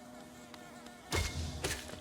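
Bee enemies in the video game Hollow Knight give off a faint, steady insect-like buzz over a low electronic hum, broken by two brief louder thumps.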